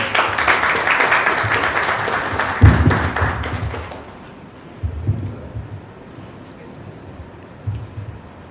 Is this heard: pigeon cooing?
no